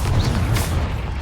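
In the Hogwarts Legacy video game, a Confringo spell goes off as a single deep, booming blast, loud and close, fading over about a second.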